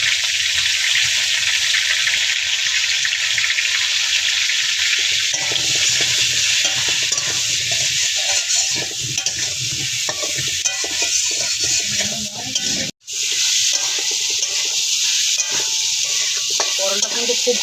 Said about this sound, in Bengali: পটলটা কিন্তু খুব ভালো করে ভেজে নিতে হবে।